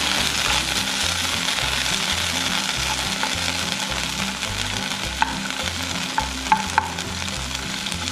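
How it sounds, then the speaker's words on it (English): Broccoli sautéing in olive oil in a pan, with a steady, close sizzle throughout and a few light clinks near the end. "I'm just putting all this broccoli here. And I'm just going to saute it a little"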